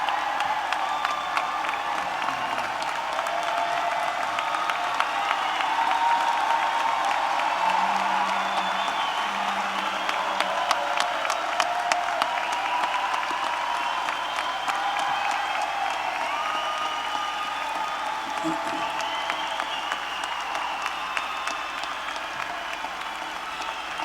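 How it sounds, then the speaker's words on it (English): A standing ovation for graduates at a spring university commencement: sustained applause from a large audience in a big hall, with scattered cheers and whoops rising through the clapping, fairly distant and even throughout. "one more great standing ovation applause for our graduates"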